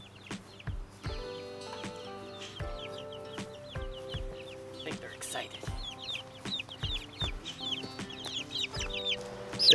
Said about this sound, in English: see how receptive the mother black copper Moran will be to these baby chicks